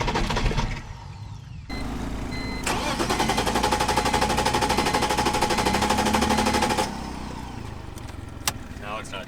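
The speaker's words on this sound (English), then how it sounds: "But we're gonna start it, or try to at least, see what it does." A waterlogged car engine cranks over and tries to start, a loud, steady rapid chugging that runs for several seconds before cutting off, with brief voices around it.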